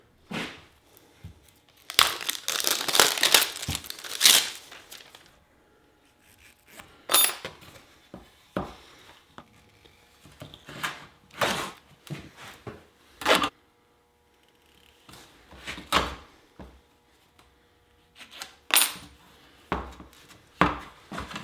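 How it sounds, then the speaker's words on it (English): Gorilla Tape is torn and wound around a machete shovel handle, making repeated ripping, crackling pulls in irregular bursts, loud and close, with short pauses between wraps. "I'm now going to wrap the handle with Gorilla Tape"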